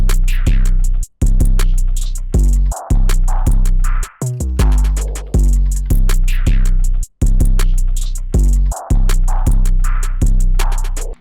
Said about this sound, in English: The drums are going to sound like this all together.